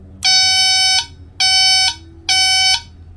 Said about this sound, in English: typical Yamaha beeps.